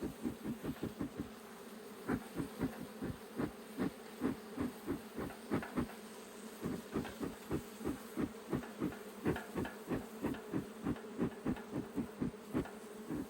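Bees buzz close by in rapid pulsing bursts, a dense rhythmic hum repeating steadily throughout with no voices.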